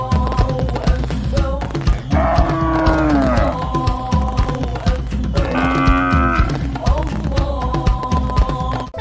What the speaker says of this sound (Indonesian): ternyata ada sapi lagi